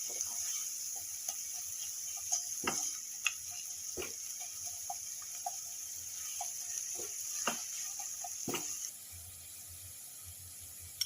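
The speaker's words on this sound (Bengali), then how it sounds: "হাফ চামচ আদা বাটা, 1 চামচ রসুন কুচি দিয়ে দিলাম, দিয়ে ভালো করে নেড়ে দেবো।" Half a spoon of ginger paste and a spoon of chopped garlic fry in a pan, a steady hiss under sharp, scattered spatula clicks and taps as the mixture is stirred; the sizzle eases slightly near the end.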